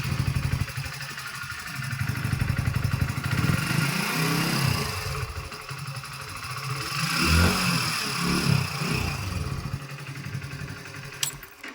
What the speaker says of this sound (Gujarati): અને તમે ગાડીનો એક્ઝોસ્ટ નોટ પણ ચેક કરી શકો છો કેવો અવાજ આવે છે.